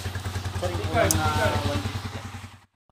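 A noisy Honda TMX155 motorcycle engine converted to 175cc idles close by with a steady, throbbing low rumble and rattling clatter for about two and a half seconds before cutting off, while a voice speaks over it.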